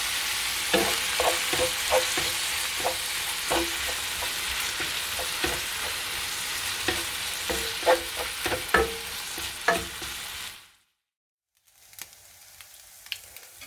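Ground beef frying in a pan until browned, a steady close sizzle with repeated sharp scraping taps of stirring, then a brief silence before quieter sizzling resumes.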